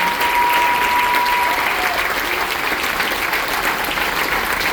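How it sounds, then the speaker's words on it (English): Sustained applause from an audience honoring veterans at a patriotic ceremony aboard a cruise ship, a dense, steady clapping that fills the room and fades slightly toward the end. "a round of applause for all the veterans in the room right now."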